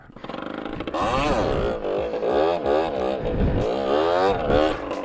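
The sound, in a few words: stock 50cc motorcycle engine revving during circle wheelies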